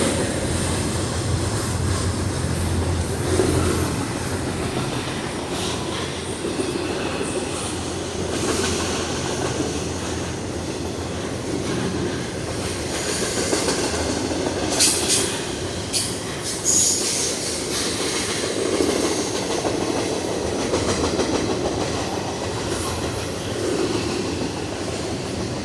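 A CSX intermodal freight train passes nearby as a continuous rolling rumble with clattering wheels and intermittent high metallic wheel squeals, holding steady throughout.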